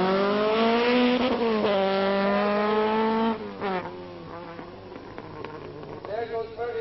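A 1983 rally car pulls away on a stage, its engine revving loudly with rising and falling pitch, and then it fades into quieter, rougher motor noise as it drives off into the distance.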